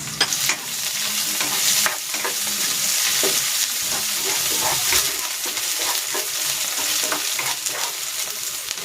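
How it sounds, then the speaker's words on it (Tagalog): Garlic and onion sautéing in cooking oil in a pan, a steady loud sizzle with repeated scraping stir strokes throughout, no voices. "Igigisa ko na tong bawang. At ang sibuyas."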